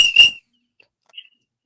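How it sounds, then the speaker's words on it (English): A single sharp referee's whistle blast ends a college football game, loud and shrill for under half a second, followed by near silence with a couple of faint distant chirps. "just blew the final whistle"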